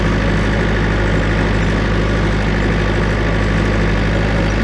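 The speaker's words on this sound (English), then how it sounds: "I'm just going riding around here on a little toy tractor" A small tractor engine runs steadily while spreading fertilizer and lime, a loud, constant low drone with vibration and no pauses throughout.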